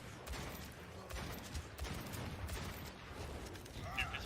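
Gunfire in an Overwatch match on Lijang Tower, with Ashe and Junkrat in play: a dense, steady wash of game shots and effects with no clear gaps, joined near the end by a brighter burst.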